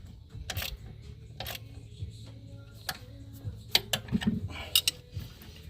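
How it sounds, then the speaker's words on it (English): A ratchet and wrench snug up a lower bolt while adjusting the V-belt on a 1987 Oldsmobile Cutlass Supreme 307 V8 engine, giving sharp, irregular metallic clicks that come in short bursts, close by, over a low steady background hum with no talking. "Take a ratchet and wrench and snug this bottom one up."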